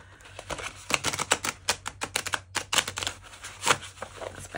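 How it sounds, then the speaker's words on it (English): Tarot cards are shuffled on a journal rather than a flat surface, giving a rapid series of crisp flapping and riffling clicks in irregular bursts, close and fairly quiet, with no talking. "So let's just give it a quick shuffle."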